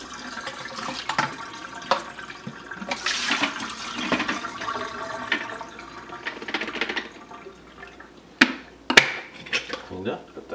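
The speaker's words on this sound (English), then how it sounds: "you want to put some water into the side port and get any dust that's out of this side port here" Water splashes and rinses through the side port of a Shark Rotator Professional vacuum, a running, gurgling wash with brief clattery knocks of plastic parts, close and moderately loud, no talking.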